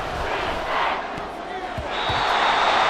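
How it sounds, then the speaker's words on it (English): Stadium crowd roaring at Arrowhead in the American football video game Madden NFL 24, a loud, sustained wash of cheering that swells toward the end, with a commentator's voice partly over it. "The Arrowhead crowd in full roar"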